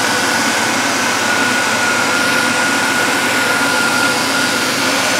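Ford 3.0 Duratec V6 engine in a demolition derby car, idling with a steady, loud, close-up drone and a faint whine, with no talk over it.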